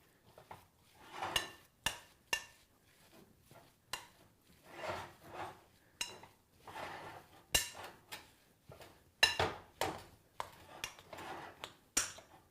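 Salt being mixed into farmers cheese in a bowl, with close, quiet scraping, rubbing and clinking of a utensil against the bowl in irregular strokes and brief sharp taps.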